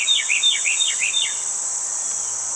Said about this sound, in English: I wonder if that's a cardinal. I can't see it, but it sounds really pretty.